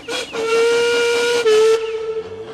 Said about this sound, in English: Duncan whistled as loud and as long as he could